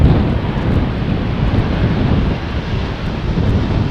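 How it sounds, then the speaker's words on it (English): KLM Cargo Boeing 747-400 arriving at Amsterdam Schiphol in a crosswind, a loud, steady broadband jet roar with heavy rumble and wind buffeting the microphone, and no talking. "KLM Cargo, operated by Martinair Holland, flight 7122, inbound from Miami, Florida. 747-400."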